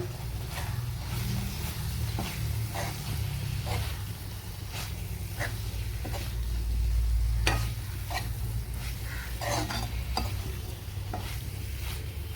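Cut boiled eggs are stir-fried in a pan, a continuous close sizzle with repeated scraping clicks of a spatula at an irregular rhythm, no voices.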